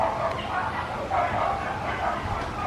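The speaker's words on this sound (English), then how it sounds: "some dogs fighting there" Several dogs scuffling and barking in an outdoor scene, steady yips and bow-wow barks with whimpering mixed in, continuous and moderately loud across the whole stretch.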